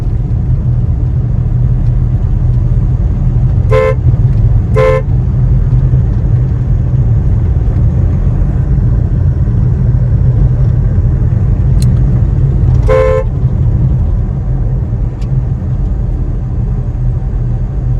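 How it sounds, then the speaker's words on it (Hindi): Three short car horn honks, two close together and one later, sound over a steady low engine rumble inside a moving car during a driving lesson. "हमें हॉर्न भी बजाना था"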